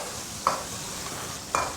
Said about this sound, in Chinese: 油留在锅里面，下姜葱蒜和干海椒。